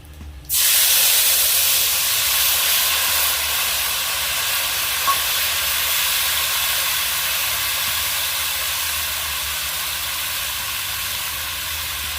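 Oil in a wok with panch phoron and dried chillies, bursting into a loud, sudden sizzle that holds as a steady close hiss and slowly eases, with no talking.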